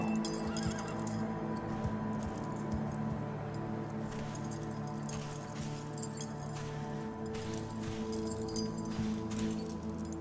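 A horse neighs and whinnies over a dense, steady bed of sound, with occasional hoof clip-clops, the call loud and up close without any speech.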